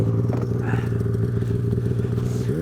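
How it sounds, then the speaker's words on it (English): A snowmobile engine holds a steady droning rev while the machine pulls its sled out of a hole in the snow, the pitch climbing sharply right at the end. "This time he's gonna give it gas, but we're gonna let go of the sled, let it pop out of the hole."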